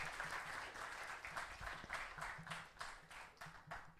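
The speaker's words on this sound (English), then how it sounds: "Can we get another huge round of applause for Ms. Kavita Dasan?" A conference audience applauds steadily, many hands clapping in a dense, continuous patter that stays even throughout.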